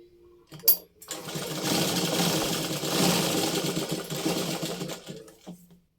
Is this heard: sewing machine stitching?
yes